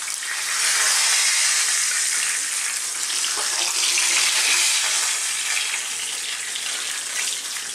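Tilapia fish frying in hot oil, a steady loud sizzle and crackle that fills the whole stretch without pause, with no talking.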